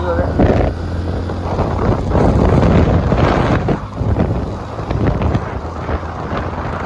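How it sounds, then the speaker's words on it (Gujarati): Gusty wind buffets the microphone from a moving vehicle in loud, uneven bursts, with a low rumble underneath that rises and falls. "હવે આવી રીતે હવા હોય છે"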